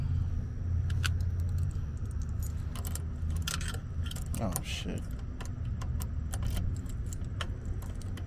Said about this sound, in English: I got the keys.